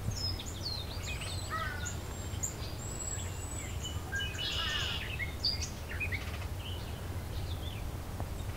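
A gray catbird sings a varied, scratchy song with mimicked phrases: faint chirps, whistles and squeaky notes, loosely spaced over a low steady outdoor hum in a Southern Ontario summer setting.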